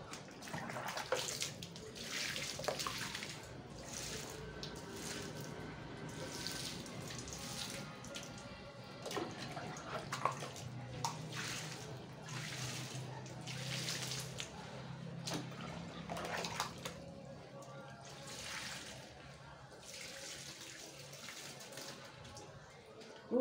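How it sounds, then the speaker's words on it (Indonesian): Water splashes and pours steadily onto an Aglaonema houseplant, soaking the soil until it is drenched. The streaming and trickling is close and continuous, with faint voices underneath. "Biasanya kita siram dengan air yang kenyang sampai basah kuyup."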